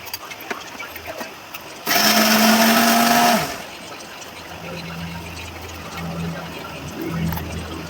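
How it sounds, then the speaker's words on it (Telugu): A small mixer grinder jar whirs loudly for about a second and a half, grinding dried red chillies, green chillies, garlic cloves, cumin and salt for Andhra-style gongura chutney, then cuts off, leaving soft kitchen clatter. "చిన్న మిక్సీ జార్ తీసుకొని 4 ఎండుమిరపకాయలు, 4 పచ్చిమిరపకాయలు, వెల్లుల్లి రెబ్బలు, జీలకర్ర, సాల్టు వేసి మిక్సీ పట్టుకోవాలి"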